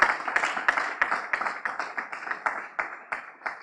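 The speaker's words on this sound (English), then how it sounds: "we want you to give them a round of applause" An audience at a brand launch event claps in a steady, evenly spaced rhythm of sharp hand claps, close and moderately loud, with no voices over it.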